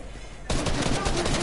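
Gunfire erupts abruptly in a video game after a quiet moment, a loud rapid run of repeated shots continuing to the end, close and dominant.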